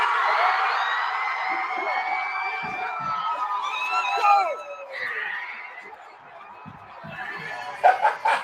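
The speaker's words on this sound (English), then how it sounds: "you're about to hear all the screams" A stadium crowd erupts in sustained screaming and cheering after a football kick, a loud, dense roar that dips briefly before rising again, with whoops and shouts on top.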